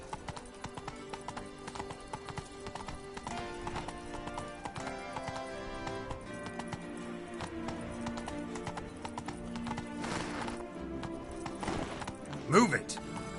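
Roach, a horse in a video game set in Toussaint, clip-clops along with a steady rhythm of hoofbeats and lets out a whinny near the end, all under game music and voices.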